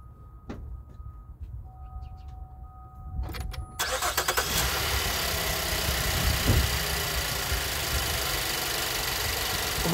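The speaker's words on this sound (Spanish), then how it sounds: "voy a arrancar el vehículo" A 2016 GMC Acadia with a purge valve fault cranks briefly and starts, then settles into a steady, even idle heard close by.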